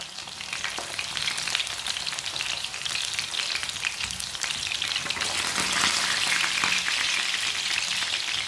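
Chicken kababs fry in a little oil over low heat, giving a steady, close crackling sizzle with fine popping that continues evenly throughout, and no one speaks.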